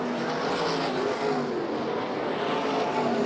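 USAC/CRA sprint cars race around a track at the Western World Championship in Phoenix, their engines roaring loud and continuous as the pack speeds past.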